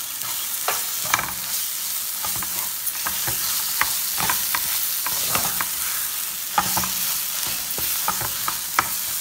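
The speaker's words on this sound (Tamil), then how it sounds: "கொஞ்சம் லைட்டாக வதக்கிக்குவோம்." Egg curry gravy sautéing in a pan, a steady sizzle broken by scraping and clinking stirs at an irregular pace, close up with no talking.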